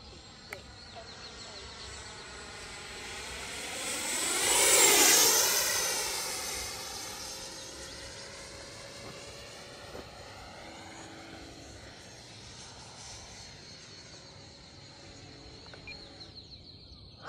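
Freewing J10A 90mm RC jet on a speed run, its turbine-like whine swelling loud as it passes close around the middle, then fading into a distant drone with insects chirping in the background.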